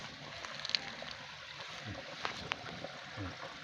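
Water from a forest stream at a temple spring runs steadily in the background, a soft continuous wash with a few faint clinks and splashes; no talking.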